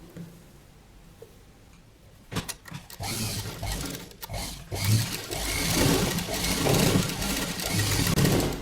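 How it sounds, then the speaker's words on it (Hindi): A sewing machine stitches the seam of a padded katori blouse, quiet handling first, then the motor starting in short bursts before settling into a steadier close whirring run. "सेम मेथड हम वो वाली साइड भी करेंगे और हम सिलाई लगा लेंगे"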